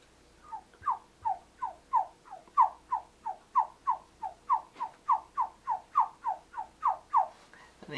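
A man imitates a chipmunk with his voice, giving a steady run of about twenty quick, evenly spaced chirps that carry on for eight seconds, close and fairly loud with no other sound.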